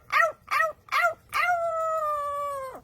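A parrot mimics a howling dog, giving three short yelping notes followed by one long, sustained howl that fades away, close and clear with no other sound.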